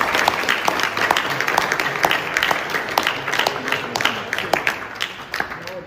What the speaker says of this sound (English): French President Emmanuel Macron was telling everybody to clap.